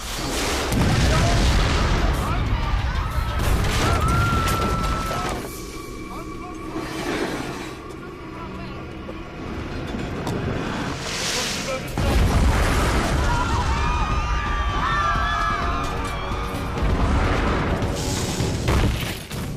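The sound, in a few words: cannon fire in siege bombardment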